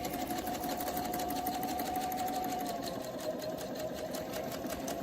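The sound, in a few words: sewing machine stitching around a quilting template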